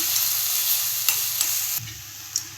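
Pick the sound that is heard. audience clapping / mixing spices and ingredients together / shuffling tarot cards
mixing spices and ingredients together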